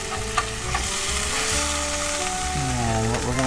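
Browned chicken pieces sizzle steadily in a hot pan for French onion chicken, a constant frying hiss running the whole time with a light scrape or stir partway through.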